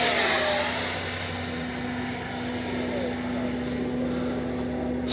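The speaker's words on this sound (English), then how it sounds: "Surprised how quiet this jet is." A Freewing 90mm F-15C radio-controlled jet flies overhead, its ducted-fan engine giving a steady, fairly quiet whine and rumble that holds at an even level throughout.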